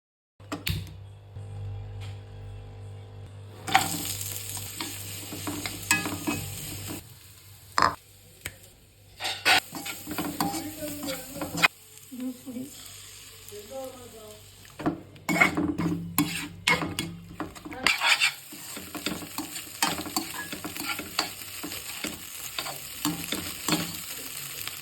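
Egg fry, muttai varuval, is stirred in a hot pan, giving a continuous sizzle with frequent scraping and metallic clinks from the utensil against the pan, close and busy throughout, with no talking.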